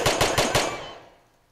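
Four rapid gunshots burst out in quick succession, loud and close, then ring off into a fading tail in the blocky survival game CubeZ.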